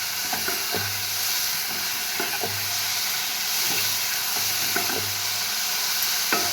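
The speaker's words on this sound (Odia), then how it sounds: "ଏବେ ସେଥିରେ ଆମେ ଲୁଣ ପକାଇକି ଭାଜିବା।" Mushrooms frying in a pan with salt, a loud continuous sizzle and hiss with repeated scraping stirs of a spatula at regular intervals, close up and without talk.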